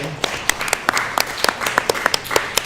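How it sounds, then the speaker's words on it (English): A round of applause at a girls' soccer team gathering, with distinct, somewhat scattered hand claps ringing out over a low room murmur. "let's give a round of applause for your dad"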